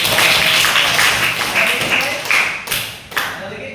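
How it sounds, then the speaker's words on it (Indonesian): A high school class claps for a student named Nurul. The claps are brief and close, thinning out into a few scattered slaps before stopping. "tepuk tangan untuk Nurul"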